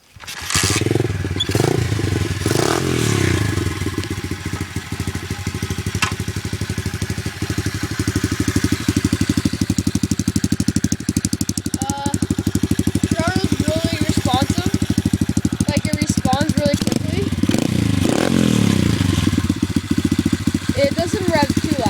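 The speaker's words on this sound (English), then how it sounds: "You can listen to the motor." A Giovanni 125cc dirt bike engine runs steadily at close range for the whole stretch, a loud continuous idle with a few blips in revs, a little talking heard in places and a small bird chirping faintly in the background.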